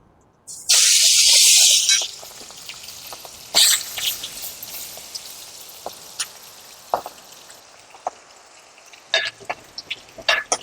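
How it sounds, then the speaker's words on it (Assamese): Water gushes out for about a second as food is rinsed and the water poured away in a home kitchen, followed by scattered clinks, drips and handling noises. "এতিয়া মই এইখিনি ধুই পানীটো পেলাই দিম"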